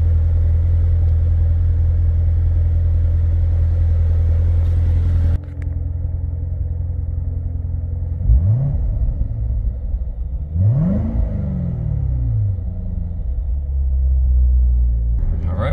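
A 2016 Chevrolet Corvette Z06 3LZ gives a loud, steady interior engine rumble. It drops abruptly partway through, then rises in two distinct revving sweeps as the car pulls away, with no talk.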